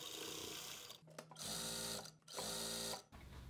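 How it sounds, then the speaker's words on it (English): A sewing machine runs in bursts, stitching along the edge of a designer dupatta: three loud, steady runs broken by short pauses, close by and with no voices. "Now we'll be stitching this edge"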